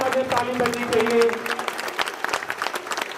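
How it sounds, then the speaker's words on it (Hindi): A school crowd at a flag-hoisting ceremony claps together, a scattered patter of many hands that grows denser, while someone speaks over the start. "झंडा फहराते हुए तालियों से भरपूर इसका स्वागत करें। तालियां बहुत कमजोर हैं, बहुत तेज आवाज में ताली बजनी चाहिए।"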